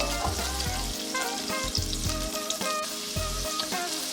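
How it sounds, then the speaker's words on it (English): Chopped onions fry in a pan with a loud, constant sizzle and crackle, broken by the scrape and clatter of stirring. "So you want to cook these onions down for a minute or so until they start getting a little bit translucent."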